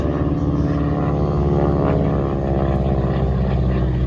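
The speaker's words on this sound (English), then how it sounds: "the Harvard, powered by the Pratt & Whitney RB1340, 9-cylinder radial, 600 brake horsepower" A Harvard IIa trainer aircraft with a Pratt & Whitney R-1340 nine-cylinder 600 hp radial engine drones loudly and continuously, a steady rough propeller throb with no talk.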